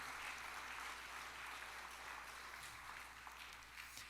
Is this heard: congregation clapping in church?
yes